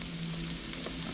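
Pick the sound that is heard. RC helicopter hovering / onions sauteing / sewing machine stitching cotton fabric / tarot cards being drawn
onions sauteing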